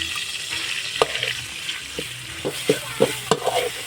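Field rat meat fries steadily in hot oil in a pan while a utensil stirs and scrapes with several sharp clinks, no voices.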